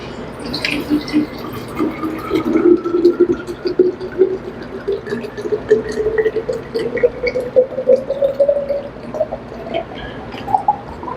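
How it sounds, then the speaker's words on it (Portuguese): Water pours steadily into a drinking glass, its gurgling pitch climbing as the glass fills over about eleven seconds, close and fairly clear with no talking. "Deixa eu tomar uma água aqui."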